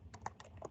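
Fingers typing on a computer keyboard while renaming a layer in photo editing software, a quick run of soft, close key clicks in an irregular rhythm, very quiet.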